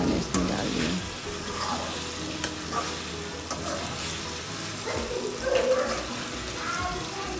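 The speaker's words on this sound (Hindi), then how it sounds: "अब ये चिकन और फ्राई हो रही है थोड़ा सा" Chicken and ground green chillies fry in a pan with a continuous moderate sizzle, overlaid by occasional stirring scrapes, and a voice is faintly audible in the background.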